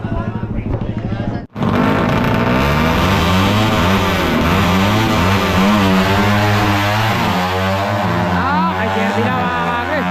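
Motorcycle at a drag race in Pampanga, Philippines, roaring hard as it accelerates away, its loud engine tone rising through gears after a brief gap, with a commentator talking over it.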